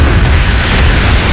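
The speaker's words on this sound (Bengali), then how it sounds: "একটা মিসাইল চলে গেছে।" A missile strikes in a Modern Warships naval battle game, producing one loud, deep, rumbling boom that fills the whole short moment with no voices over it.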